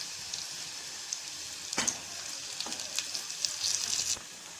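Bay leaf, black pepper and cumin fry in hot oil, making a soft continuous sizzle with a few sharp pops and spatters near the end.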